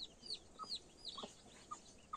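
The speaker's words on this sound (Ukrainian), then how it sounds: "Ось голошиї курчатка, які ви бачите перед собою, це взагалі диво дивне і чудо чудне." Naked neck chicks and hens cluck softly in a few short, scattered calls, with thin high chick peeps over a quiet, hissy background.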